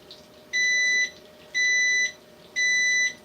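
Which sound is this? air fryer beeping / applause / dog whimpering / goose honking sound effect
air fryer beeping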